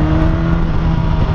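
A Yamaha motorcycle held at full throttle around 2500 rpm, a loud, steady, deep engine drone with a constant low hum and no pauses, close to the microphone.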